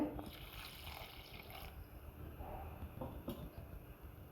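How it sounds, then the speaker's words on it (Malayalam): Tamarind water poured into a simmering home-style curry of green plantain and mango, making a faint, quiet trickle with a few soft splashes. "കുറച്ച് പുളിവെള്ളം കൂടി ഒഴിക്കുന്നുണ്ട്"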